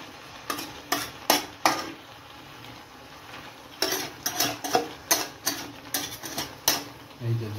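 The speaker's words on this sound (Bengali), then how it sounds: "এই যে জল দিয়ে মাংসটা কষানো হয়ে যাচ্ছে" Goat meat braising with water in a pan, cooked without oil, as a utensil stirs and scrapes in repeated quick bursts over a soft background simmer.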